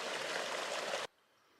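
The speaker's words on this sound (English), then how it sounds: "First good water source of the day." A mountain stream along the Continental Divide Trail rushes and burbles steadily nearby at moderate volume, then the sound cuts off abruptly about a second in.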